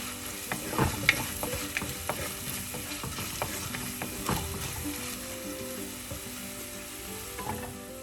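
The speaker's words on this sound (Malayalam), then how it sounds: "അര ടീസ്പൂൺ മഞ്ഞൾപ്പൊടി ചേർക്കാം അത് എണ്ണയിൽ കിടന്നൊന്ന് മൂക്കട്ടെ" Turmeric powder sizzles in hot oil with a quiet, steady frying hiss, broken by repeated clicking and scraping as a utensil stirs the pan; nobody speaks.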